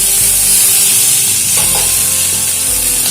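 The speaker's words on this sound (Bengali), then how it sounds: "আবারও একটু ভালো করে এগুলোকে ভেজে নেব" Chopped onions and a large tomato sizzle in hot oil in a pan while a utensil stirs them, a steady loud fry with scraping stir sounds and no talk.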